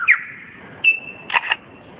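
A male lyrebird in a forest mimics a camera shutter with a few sharp, bright clicks and whistled tones. The sounds are short and separated by gaps, fairly close, with no voices.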